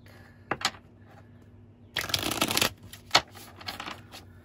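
Steampunk tarot cards being shuffled, with a short riffle near the start, a louder dense burst of shuffling in the middle, then a sharp tap and softer handling, close and without speech.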